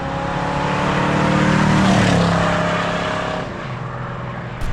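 A 1975 Pontiac Trans Am with its 455 engine accelerates hard, a loud, rich V8 roar that builds and then eases off, heard close with no talking.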